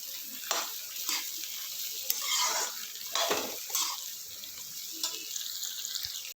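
Onions frying and being stirred in a pan, with a steady sizzle and repeated scraping strokes of the stirring utensil, close and fairly loud, no talking.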